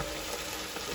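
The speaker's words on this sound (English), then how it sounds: "We're gonna deglaze it with a 1/4 cup of Chianti red wine." Onions in a pan hiss with a steady, dense sizzle as a quarter cup of Chianti red wine deglazes them, a continuous close frying noise with no talking.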